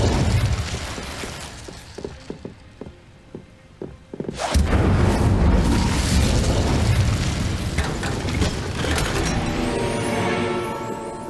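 An Incendio fire spell in the Hogwarts Legacy video game erupts in a loud, sudden fiery blast after several sharp clicks and pops, then roars and crackles for several seconds before slowly settling.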